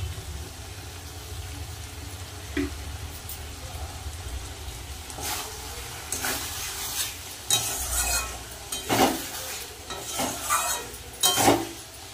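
Vegetables including bitter gourd are stirred in a pan with raw mustard oil, with a low background sizzle under scraping spoon strokes that grow louder and more frequent toward the end, close by.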